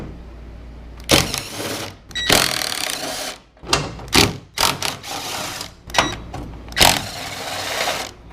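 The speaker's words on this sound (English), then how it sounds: "I'm gonna pop these 4 screws out for the radiator and get that out of the way now." A half-inch ratchet loosens the four radiator screws on a 1964 Chevy II during front-end disassembly, giving loud, close bursts of rapid clicking that start and stop repeatedly in short runs with brief pauses between them.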